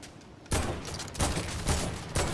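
Gunfire in a video game arena match, loud bursts of shots in quick repeated volleys, heard alone.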